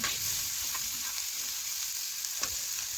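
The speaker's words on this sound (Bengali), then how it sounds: "আর পেঁয়াজটা একটু ভেজে নেব।" Chopped onion and green chili frying in a pan, a continuous even sizzle heard up close with a couple of faint utensil taps, no voices.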